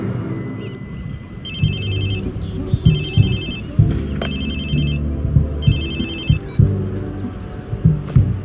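A phone rings in the video game Watch Dogs 2, giving four evenly spaced electronic trilling bursts over a low, rumbling game background with brief thuds and sound effects.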